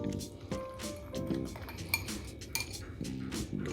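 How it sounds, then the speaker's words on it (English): Thick yogurt whisked in a bowl for lemongrass tzatziki, a series of soft rhythmic clinks and scrapes of metal against the bowl, close and fairly quiet, with some faint background tones. "Let's give that a whisk"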